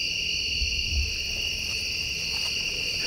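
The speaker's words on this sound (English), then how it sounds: "I think crickets or whatever." Crickets chirp in dense forest at night, a steady high-pitched trill that continues evenly throughout at moderate volume, with no voices.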